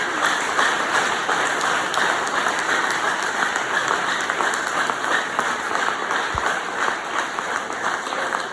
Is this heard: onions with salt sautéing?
no